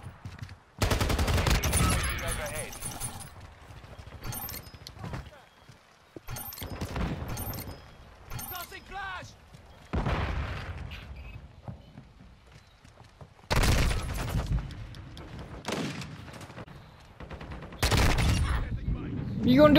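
Gunfire in Call of Duty MW22 in a shotgun fight, with loud close blasts and bursts spread across the clip, some quiet stretches between them and a player talking in the gaps.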